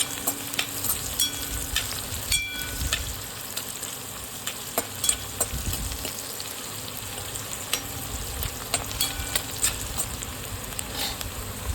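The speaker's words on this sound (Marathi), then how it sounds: "याच्यामध्ये आता आपल्याला चवीनुसार मीठ टाकायचं आणि याला व्यवस्थित फ्राय करून द्यायचं." Onions with green chillies and salt fry in a pan for kanda poha, giving a steady low sizzle dotted with light crackles and small clicks of a spatula.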